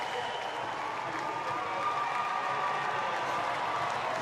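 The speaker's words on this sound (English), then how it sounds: "The crowd, oh my goodness, you should hear the crowd live." A big arena crowd at the Glasgow 2014 swimming keeps up steady, dense applause and cheering, a continuous roar with a commentator talking over it.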